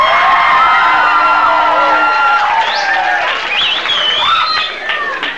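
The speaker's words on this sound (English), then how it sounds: "lots of encouragement, screaming, yelling, applause, and all the things like you're doing right now" A live comedy troupe audience at a 1993 show bursts into loud, sustained cheering, screaming and whooping with applause mixed in, a dense crowd roar holding steady for several seconds.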